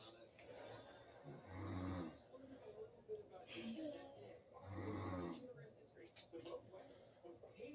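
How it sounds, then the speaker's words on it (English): A man snoring at home, two slow, deep rasping snores several seconds apart, fairly faint, with a small child's chatter and giggles around them. "Who's snoring"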